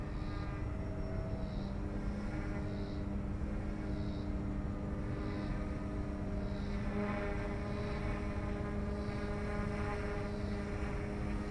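A small Yuxiang F150 radio-controlled helicopter flies and climbs at full throttle with a steady, fairly faint whine and buzzing rotor drone that holds without a break throughout.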